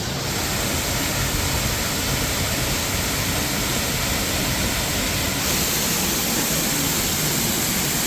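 A waterfall pours in a steady, dense roar, heard from behind the falling water wall in Kutaisi, Georgia, loud and continuous with no voices.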